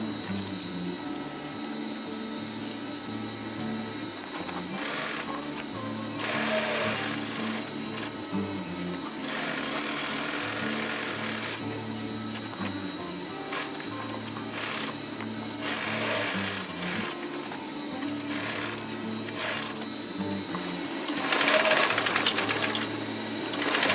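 Sewing machine running a double row of cross stitching across a canvas compression strap for a sleeping bag, a steady rapid mechanical chatter in repeated bursts with brief pauses between passes.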